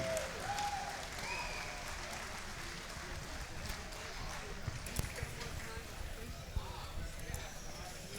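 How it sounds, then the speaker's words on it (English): Steady crowd applause and cheering at an MMA event fills the space from start to finish, with a few sharper claps and thumps standing out near the end. "One more big round of applause for your new 135-pound champion, Dalton Brady."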